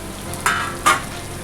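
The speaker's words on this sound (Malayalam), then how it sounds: "ഒന്ന് മൂത്ത് വരുന്ന വരെ നമുക്ക് വറുത്തെടുക്കാം" Grated coconut frying with curry leaves in a pan, two brief bursts of sizzling as it is stirred over a low, steady background crackle.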